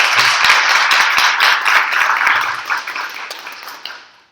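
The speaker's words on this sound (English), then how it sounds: "So please give a warm round of applause and welcome to our panelists." A warm burst of audience applause welcomes panelists at a women in leadership symposium, dense and steady, then tapering off toward the end.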